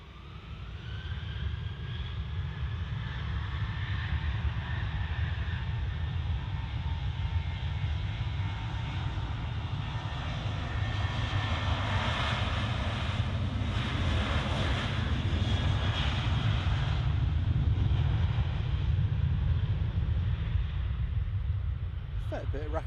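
KLM airliner at Manchester Airport, a loud sustained engine roar with a rising whine, building and swelling nearby, with some voice under the noise.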